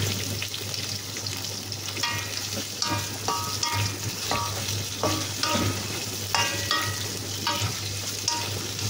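Sliced onions fry in a pan and are turned and stirred as they soften, giving a continuous close sizzle with frequent scraping and clinking strokes throughout. There is no talk.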